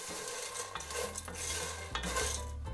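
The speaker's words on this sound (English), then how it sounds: "stirring constantly" Fideo noodles frying in oil in a pot and stirred constantly, a close, continuous scraping of a utensil against the pot with light clinks over a soft sizzle, no voices.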